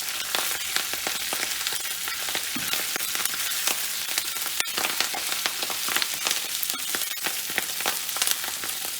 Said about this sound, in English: if you have moisture on the leaves, it will pop in the grease